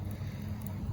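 Wind blows outdoors in a steady low rumble and buffets the microphone for about a second, with no other distinct sounds.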